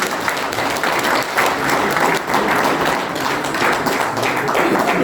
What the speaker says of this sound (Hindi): एक बार तालियां बजाओ उनके लिए